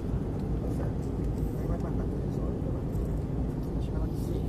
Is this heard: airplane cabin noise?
yes